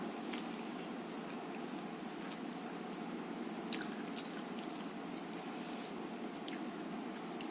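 Someone eats cooked telakucha (ivy gourd) leaf greens at breakfast, with soft, wet squishing chews and faint smacking heard close up but quietly over a steady background hiss.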